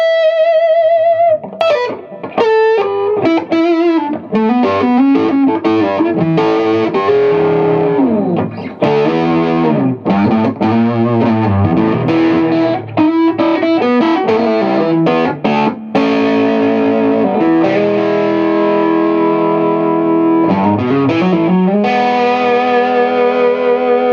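Paul Reed Smith Custom 24 electric guitar on the middle pickup position through a driven amp: loud, distorted chords and single-note lines with sustained overtones, played alone without talk.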